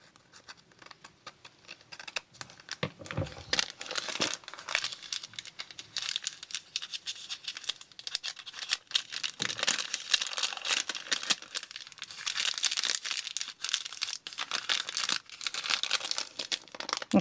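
Glassine bag paper is cut and handled for a journal, with crisp crinkling, rustling and scissor snips in irregular bursts, close and fairly quiet.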